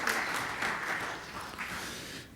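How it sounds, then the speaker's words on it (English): Applause from a gathered audience at a morning meeting, a dense burst of many hands that holds steady and tapers slightly toward the end, with no talk over it. "Give him a round of applause, Peter."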